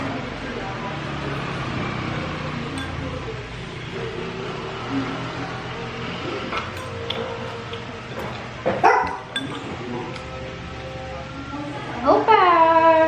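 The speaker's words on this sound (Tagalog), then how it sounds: "Yung aso ko pala guys nandito." A pet dog begging for food during a home meal, giving small yips, whimpers and short barks near the end amid people talking.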